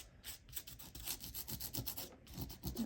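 Coarse salt being rubbed off an ink painting, producing a soft, continuous scratchy rubbing in repeated short strokes, close and quiet without voices.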